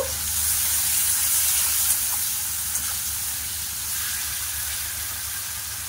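Prawns seasoned with salt and turmeric fry gently in a pan for a pumpkin and shrimp curry, giving a continuous close, even sizzling hiss with a few faint pops and no talking.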